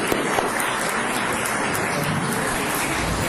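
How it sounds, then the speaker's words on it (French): A lecture audience breaks into applause for the speaker after a talk on the Shroud of Turin, a dense wash of many hands clapping, steady and moderately loud for the whole stretch. "Et je vous demande d'applaudir monsieur Lucas pour son intervention."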